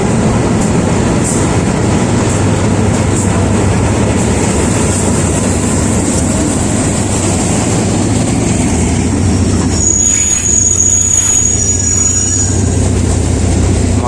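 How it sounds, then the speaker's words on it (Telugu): A local passenger train of seven non-air-conditioned coaches pulls into a station on the Phuket to Bangkok route, a loud, close, continuous rumble of wheels with squealing near the end. "స్టేషన్లోకి ఒక ట్రైన్ అరైవల్ అవుతుంది,"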